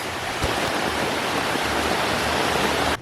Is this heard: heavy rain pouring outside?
yes